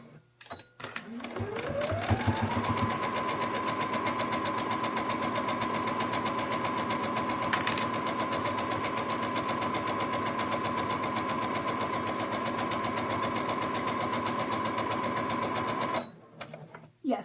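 Sewing machine stitching fabric, spinning up to a steady fast hum with rapid needle chatter that holds evenly for about fourteen seconds before stopping, close and moderately loud.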